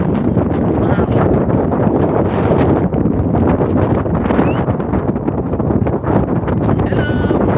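Strong wind roars steadily into an outdoor microphone, a loud continuous buffeting rush that lasts throughout, with people talking over it.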